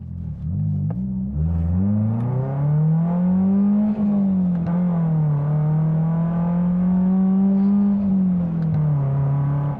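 A 1998 BMW Z3 roadster's engine hums steadily while driving, a loud close drone that rises through a gear, holds an even pitch and eases slightly, with road rumble beneath and no voices.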